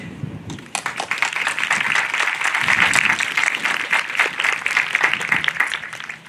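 Sustained applause from a crowd at a 2021 high school graduation ceremony, dense and steady clapping that carries on for several seconds without talk.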